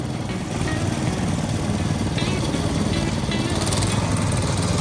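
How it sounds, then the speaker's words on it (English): A small cycle engine runs a sugar cane juice press in a busy Rawalpindi street, droning steadily at close range over faint background bustle. "Little cycle engine."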